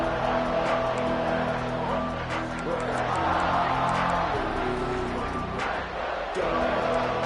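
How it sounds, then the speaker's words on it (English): Big football stadium crowd roaring as the defense faces a goal-line stand: a loud, continuous wall of cheering and shouting that barely dips, with a brief lull before it surges again. "this big crowd doing everything possible to inspire this defense down here near the goal line"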